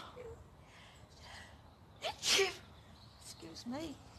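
A single person's sneeze bursts out sharply and close at hand in a quiet indoor space, with faint breathy sounds before and a short vocal murmur after.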